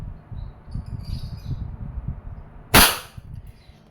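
A WG 708 revolver is fired once in single action, producing a sharp, loud report near the end of the clip. Low background rumble is audible before the shot.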